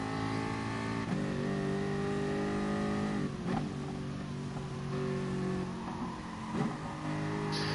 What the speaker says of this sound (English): watch the throttle input into this corner.